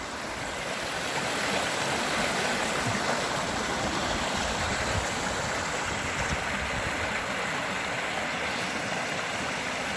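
Steady rushing water of a stream beside a moorland wild camp near Kinder Scout, a continuous broadband flow with no pauses, close and even in level throughout.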